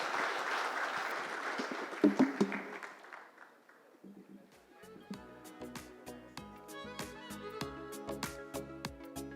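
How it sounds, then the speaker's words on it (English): Audience applause for panelists at a construction awards summit fades out over a few seconds, then gives way to stage music with sharp beats. "Can we have a huge round of applause for them, please?"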